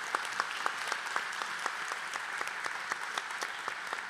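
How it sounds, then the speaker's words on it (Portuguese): Audience applause at a panel session of an adventure tourism summit, moderately faint, even clapping from a modest crowd with distinct individual claps, continuing steadily with no voices. "eu peço, por gentileza, uma salva de palmas para eles, que eles merecem"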